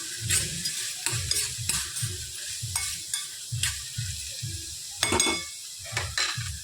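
Crushed garlic sizzles in a pan of frying soybean curry as a spoon stirs it in, producing rhythmic scraping strokes over a steady close hiss.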